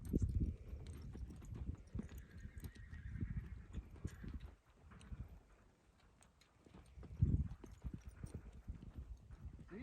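Close horse sounds: hooves shuffling and clopping, snorts and a whinny, with quiet stretches between the bursts.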